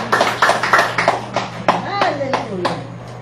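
A congregation at an El Shaddai DWXI Prayer Partners service claps loudly for the Lord in several strong bursts of hand claps. The applause is close and continuous at first, then thins out under a lingering voice.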